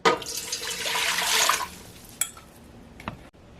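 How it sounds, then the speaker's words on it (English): Water poured into a cooking pot for baked mac and cheese, a steady close splashing stream for about a second and a half, followed by a few clinks and a sharp knock of the pot. "the first thing I'm going to do is I'm going to add my water."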